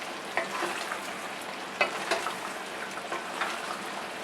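Adobo sauce with apple cider vinegar simmers in a pot of pork, chicken and potatoes, giving a soft continuous sizzle with occasional light scrapes of stirring, fairly quiet and steady.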